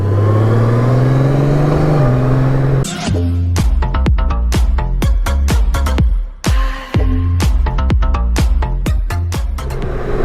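Motorbike engine on an early morning ride, first a steady low idle, then a string of sharp, loud revs and gear-change bursts close to the microphone.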